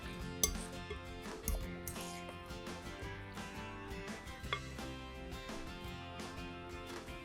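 Seasoned cabbage being mixed in a bowl with salt, paprika and black pepper, giving quiet, irregular clinks and scrapes of utensils against the dish with a steady soft rustle underneath.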